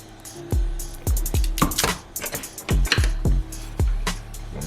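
Ricotta cheese being mixed into a stuffed shells filling, a run of wet squishing thuds and spoon knocks against a bowl, close and irregular, with brief gaps between strokes.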